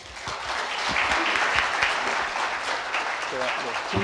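Sustained audience applause fills a conference hall after a speaker finishes a session talk on Korean Wave convergence content, steady and dense, with a host's voice faintly underneath near the end.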